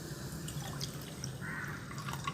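A small amount of water trickles and drips into a kitchen filter soaking in vinegar, a faint, steady wet patter close by with no talk.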